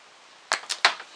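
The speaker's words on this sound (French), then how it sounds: "Et puis je vais couper ici." Cutters snip through an electrical wire in three sharp, close clicks spaced a fraction of a second apart, with quiet room tone around them.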